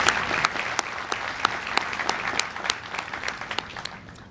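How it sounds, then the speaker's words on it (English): Audience applause for the participating industries at a FAME signing day event, a steady roomful of clapping with sharper individual claps standing out, sustained and fairly loud throughout. "Let's give those industries a round of applause."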